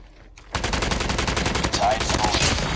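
BK57 assault rifle in Call of Duty Mobile firing a long, steady automatic burst of rapid sharp shots that starts abruptly after a quiet moment and continues nearly without pause.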